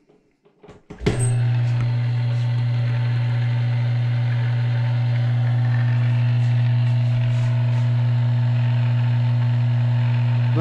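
A small 1/10 horsepower electric motor spins a rotisserie shaft, starting with a few clicks and then settling into a loud, steady hum with a constant whir that runs unbroken to the end.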